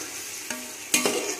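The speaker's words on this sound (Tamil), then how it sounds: "இதே மாதிரி கிளறிக்கிட்டே இருக்கணும்" Chicken being stirred into biryani masala in a pot, a couple of short scraping stirs over a steady low background, close and fairly quiet.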